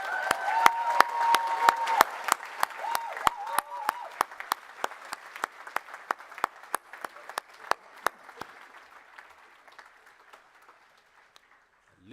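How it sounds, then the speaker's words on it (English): Audience applause at a University of West London graduation ceremony, a steady round of clapping that fades out over about ten seconds to near silence. "perhaps we could just pause there for an extra round of applause for those"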